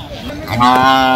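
A loud, close cow moo swelling in the middle, with busy crowd murmur and other livestock noise, including goats, at Sajanpur livestock market in Kishoreganj, Bangladesh.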